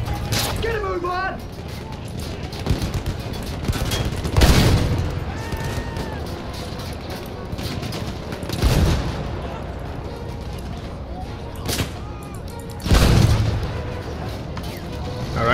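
Tank shell explosions and gunfire in the video game Battlefield 1, with three heavy booms spaced several seconds apart over rattling mechanical noise and scattered shots; voices are heard speaking between the blasts.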